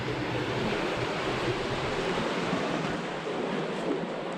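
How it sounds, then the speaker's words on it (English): Water overflows the edge of a tank in Andorra and pours out, a steady broadband rush of flowing water close by with no breaks or voices. "that is filling up with water, and then it's going to overflow and then flow out of here eventually"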